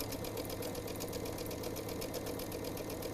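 Sewing machine chain piecing quilt squares, running in a steady fast continuous whir with rapid even needle strokes, close up and alone.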